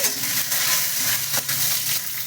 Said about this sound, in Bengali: এই দেখো শুকনো লঙ্কা ফোড়ন দিলাম, তেজপাতা ফোড়ন দিলাম